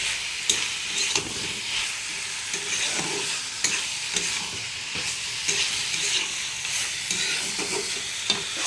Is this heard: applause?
no